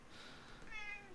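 One short cat meow rises near the end of a quiet indoor moment, faint but clear against a low room hum.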